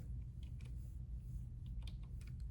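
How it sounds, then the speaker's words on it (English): Soft, quick keystrokes on a computer keyboard as a password is entered, a few scattered taps over a low background hum, faint and close, with no talking. "Typing in my password."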